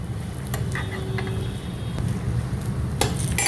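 Double ka Meetha ingredients fry in a pan with a steady low sizzle, broken by a few light clinks and stirring scrapes of a utensil against the pan.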